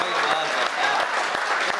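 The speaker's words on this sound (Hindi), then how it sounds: "उस पन्ना धाय के लिए एक बार देर तक तालियां सुनना चाहते हैं।" An audience at a Hindi poetry gathering (kavi sammelan) claps for a short moment, a dense burst of applause from a crowd that stays steady throughout.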